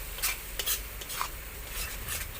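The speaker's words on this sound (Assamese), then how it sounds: "এইফালে মোৰ এইখিনি মছলাখিনি মই ভালকৈ ভাজি ল'ম।" Spices, chili powder and turmeric stirred in a hot pan with a spatula, soft scraping strokes over a faint steady sizzle, close up and quiet, with no talking.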